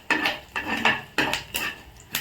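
Cumin, mustard seeds, curry leaves and lentils tempering in oil in a home cooking pan, stirred with a utensil that scrapes and clinks against the metal in a steady series of five or six close, clear strokes.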